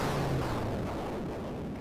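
A deep, rumbling boom that rolls on and slowly fades, a large boss explosion in the game Axiom Verge, loud and sustained with no voices.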